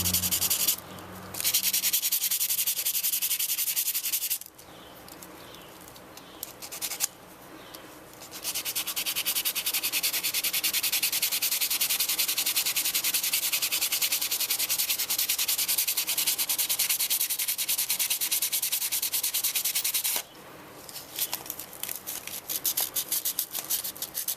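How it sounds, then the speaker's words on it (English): Sandpaper rubs over the plastic key fob of a 2004 Volvo XC90 in long, loud, continuous rasping stretches, close to the mic, broken by a few short pauses and with no speech. "Trying not to hit the button because the sandpaper will scratch that button."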